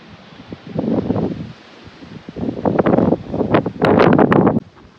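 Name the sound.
wind blowing on a hilltop with wind mills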